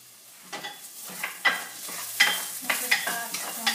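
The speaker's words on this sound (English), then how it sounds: "My potatoes are sizzling, so I'm going to give them a quick stir" Potatoes sizzle steadily in a pot on a Rock Crock while being stirred, with a series of sharp scraping clinks from the utensil against the pot over a continuous frying hiss; no voices.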